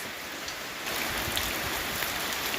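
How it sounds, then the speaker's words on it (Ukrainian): Steady rain falls across a village yard beside a shed and summer kitchen, a dense broadband hiss that swells louder partway through, with scattered drop patters standing out, close and continuous with no talk. "отакий дощ іде"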